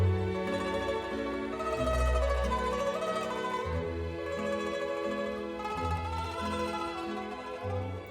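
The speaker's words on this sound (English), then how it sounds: "This is the sound of the mandolin, crisp and melodic" Mandolin played in an Italian romantic style, crisp plucked melodic notes over a steady accompaniment, sustained and moderately loud throughout with no voices.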